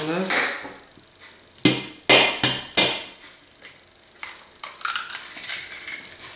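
Eggs cracked against a bowl while making waffle batter, a series of sharp knocks and taps of shell on the rim, some in quick pairs, followed by softer clinks and dripping, heard close.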